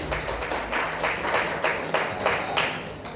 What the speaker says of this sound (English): So now let us just clap for them